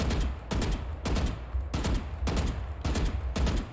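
Bursts of rapid automatic rifle fire in the shooter game Valorant, several loud sustained sprays separated by short pauses, close and dominant with no talk.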